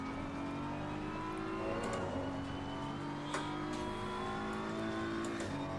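BMW M4 race car engine in Assetto Corsa Competizione at Kyalami, a steady high-revving drone with shifting tones and brief gear-change dips, heard continuously from onboard at moderate level.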